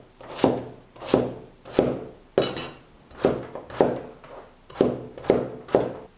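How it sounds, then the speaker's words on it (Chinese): A knife dices potatoes on a cutting board in steady, evenly spaced chops, nine close, crisp strokes with a woody knock, heard alone without talk. "最后切丁"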